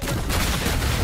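An alien living gun fires in High On Life, a dense, continuous burst of loud rapid shots with heavy low thumps and bright crackle throughout.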